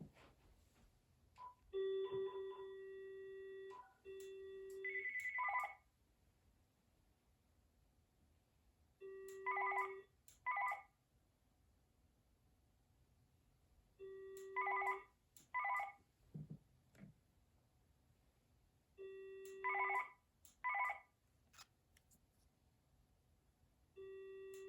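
A Uniden waterproof cordless phone rings with its flicker ringtone: a repeating electronic pattern of short stacked tone bursts, sounding in four clear groups several seconds apart, loud and alone with no talk.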